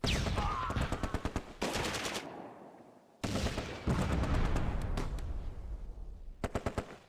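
Rapid bursts of Vickers machine gun fire in the Close Combat war game, loud and close, with dense rattling volleys broken by brief pauses and short staccato strings of shots.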